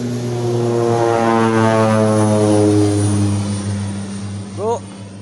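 A rescue helicopter passing overhead in a combat game, its loud steady drone with strong engine harmonics filling the clip and swelling then easing, with a brief rising tone near the end.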